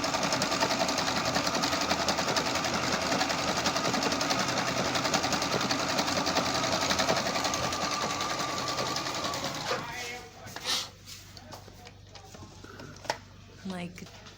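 An Electrolux electronic sewing machine stitches with a steady, fast mechanical whir for about ten seconds, then stops. A few clicks and handling sounds follow, and a voice speaks briefly near the end.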